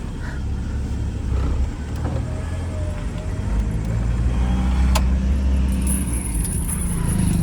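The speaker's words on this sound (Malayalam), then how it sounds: "അപ്പോൾ ഇപ്പോൾ വണ്ടി എൻജിൻ പക്ക സ്മൂത്തായി." A Mahindra Xylo's engine runs smoothly as the vehicle drives, a steady low rumble with road noise close by, after its EGR valve was cleaned to fix a pulling problem and black smoke.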